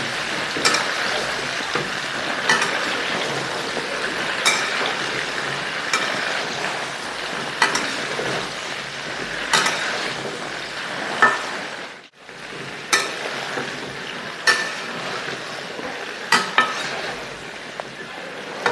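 Indian gooseberries (amla) fry in oil for a pickle, giving a steady close sizzle with periodic sharp clinks and scrapes of a utensil stirring in the pan, one brief pause midway.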